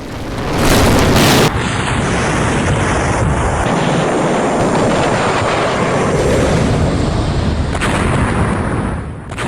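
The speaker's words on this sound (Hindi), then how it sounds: "अंदर जाने के बाद एक और धमाका हुआ है" A missile strike on an Iranian nuclear site in news footage, heard as a loud, sustained explosive roar that sets in sharply after a second and rumbles on heavily for the rest of the stretch, with no talk over it.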